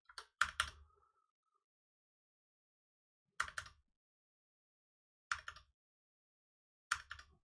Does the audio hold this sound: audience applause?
no